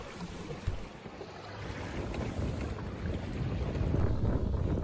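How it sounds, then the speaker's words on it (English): Wind picking up over Lynn Canal, a fjord overlooked by glaciers, heard from a boat as rushing broadband noise with microphone buffeting that grows steadily louder over several seconds. "Wind's picking up."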